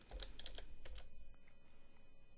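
Soft, quiet keystrokes on a computer keyboard come in a short, irregular run of light clicks with a faint background hiss, and no voice is heard.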